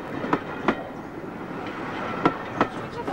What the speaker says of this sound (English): I'm recording the sound of the locomotive.